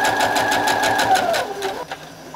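Sewing machine stitching quilt fabric for a pinwheel quilt, a loud close rapid rhythmic whirr that winds down and stops near the end.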